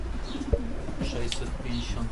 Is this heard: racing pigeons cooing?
yes